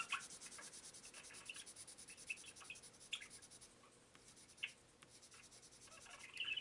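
Pencil scratching on paper while colouring a waterfall scene, a soft continuous rubbing texture with faint rhythmic strokes and occasional sharper scrapes, close and quiet with no talking.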